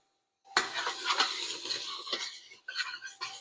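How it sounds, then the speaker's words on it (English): Vegetables for lentil chili sauté in a pot, a close, continuous sizzle broken by scraping stirs and a few light clinks of utensil against metal, with no voices. "we're going to saute this for about 5 to 7 minutes until those veggies get a little soft"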